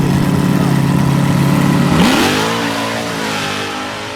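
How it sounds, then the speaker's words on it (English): An old, rusty drag race car makes a nitrous pass: a loud, sustained engine roar that abruptly lifts off, then the revs wind down and fade as the car slows. "Finally made a decent nitrous pass."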